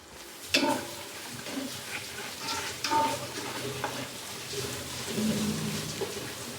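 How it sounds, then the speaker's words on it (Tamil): Tomatoes sizzle in a pan over a medium flame while cooking for a vegetable and chicken biryani, with a soft continuous frying hiss, occasional scraping stirs of a spoon and a clink near the start. "இந்த தக்காளி ஃபுல்லாக மசிகிற வரைக்கும் அடுப்பை மீடியம் ஃப்ளேமில் வச்சு இதை ஃபுல்லாக வேக விட்டுப்போம்."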